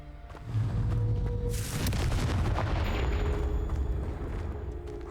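Blasting spell explosion in the Hogwarts Legacy video game, a sudden loud boom about half a second in that becomes a long, rumbling, crackling blast filling the rest of the clip.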